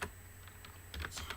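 Keys clatter on a computer keyboard in a brief run of close, crisp taps that bunch together near the end, with no voice over them.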